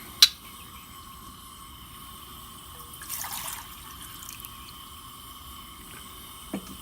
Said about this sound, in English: We're going to pour in the water.